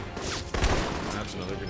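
Burst of gunfire in an Alpha Protocol shootout on a yacht as the player is shot at, a rapid cluster of close reports in the middle of a steady background of game ambience.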